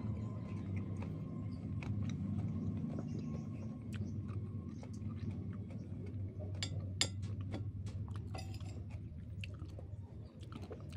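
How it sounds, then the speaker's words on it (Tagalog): Close, quiet chewing of food with soft crunches and moist clicks repeating irregularly by someone eating without teeth, over a low background hum and no talking. "Ang hirap kumain pag walang ipin."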